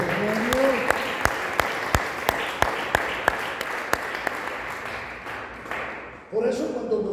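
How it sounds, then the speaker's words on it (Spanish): Church congregation applauding, a dense wash of clapping with sharp rhythmic claps standing out in a steady beat, fading out near the end as a voice begins speaking. "dale palmas al Señor"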